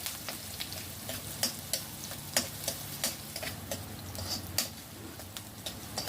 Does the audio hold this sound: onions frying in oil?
yes